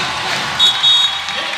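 Volleyball crowd at a Penn State women's match against Indiana in a packed arena, a steady roar of cheering and applause swelling in short louder bursts near set and match point.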